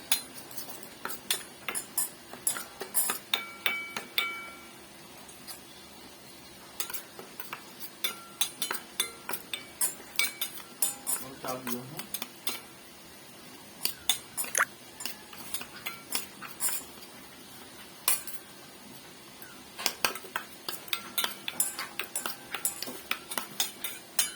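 A spoon stirs a paste with water in a bowl, making quiet, close, irregular clinks and scrapes against the bowl in scattered bursts, with soft pauses between.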